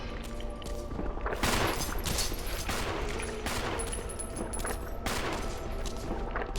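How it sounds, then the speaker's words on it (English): Gunfire in the Resident Evil HD Remaster video game, dense bursts of shots over a constant loud game soundscape with no talking. "that first gunshot gave me a wee bit of a jump"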